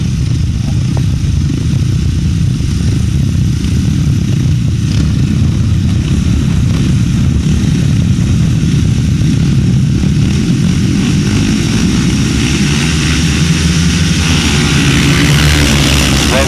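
Grasstrack solo motorcycles race down the back straight at a British Masters meeting, a loud, continuous engine roar that swells and holds throughout with no voices over it.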